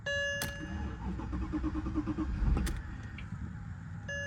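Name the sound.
car engine starting with key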